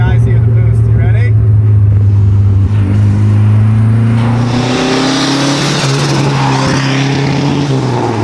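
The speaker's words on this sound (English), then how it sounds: "we got to do a flyby of the shop. Let the guys hear the boost." A turbocharged Chevy LUV pickup truck accelerates past a shop, its engine note climbing steadily as it revs up and draws near, loud and continuous throughout.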